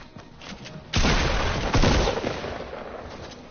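Burst rifle fire in Fortnite, a loud dense volley of rapid shots that starts sharply and carries on with a second heavy cluster before tapering off.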